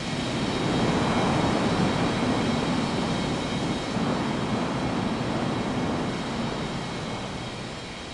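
Airliner jet engines roar steadily in an air traffic control game with Boeing 737 and Airbus A320 traffic, a broad continuous rumble that stays loud and even throughout before easing slightly at the end.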